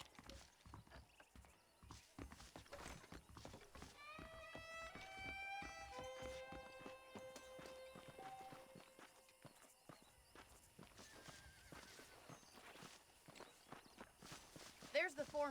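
Horse hooves clip-clop in a steady walking rhythm in the Red Dead Redemption video game, close and fairly quiet, with a voice talking and musical tones over them.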